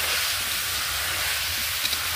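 Pumpkin and potato with rinsed masoor dal fry in a pan, giving a steady, broad sizzling hiss that stays even and fairly loud throughout, with no talking.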